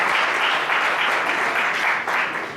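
A church congregation claps steadily during an evening worship service, dense sustained applause from a crowd filling the room, with no voices over it.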